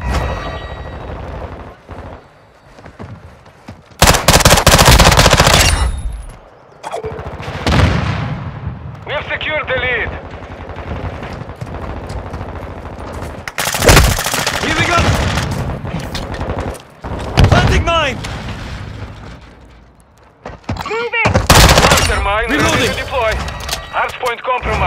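Heavy gunfire and explosions in the shooter game Modern Warfare 2, loud booming blasts and bursts of automatic fire in several waves between quieter stretches, with game voices calling out over the combat.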